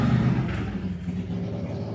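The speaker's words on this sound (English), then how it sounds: "Very loud motorbike has just driven behind me" A loud motorbike passes close behind, its low engine rumble strongest at the start and fading steadily over two seconds.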